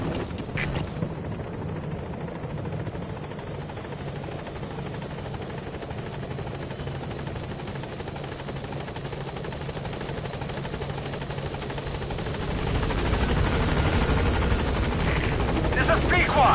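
A helicopter arrives at a landing zone in the video game Metal Gear Solid V, with a continuous rotor roar that grows louder and heavier near the end as it closes in. Radio voices speak over it.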